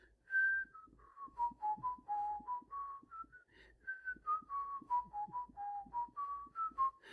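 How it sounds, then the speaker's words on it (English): A person whistles a wandering melody alone, with clear sustained notes that rise and fall in short phrases, broken by brief pauses. "I'm going to whistle while you're paused."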